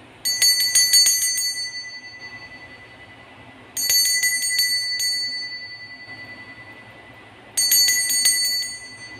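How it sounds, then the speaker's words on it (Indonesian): A small bell rings in three rapid trilled bursts, evenly spaced a few seconds apart, bright and close with quiet gaps between. "Kita akan langsung saja memulai dengan ditandai lonceng berbunyi."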